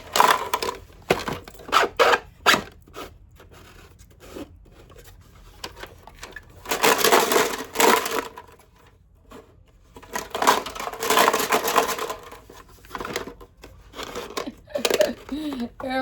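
A gumball machine is shaken and turned: bursts of rattling, crunching clatter come in several loud rounds, with quieter fiddling between them.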